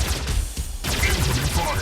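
Rapid bursts of gunfire in the Mech Arena video game, a dense crackling volley that cuts briefly, then resumes loud and close.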